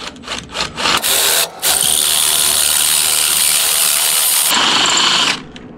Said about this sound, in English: Drill that puppy out.